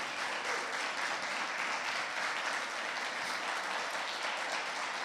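A church congregation applauds its volunteers during a worship service, steady dense clapping filling the room without a break from start to finish.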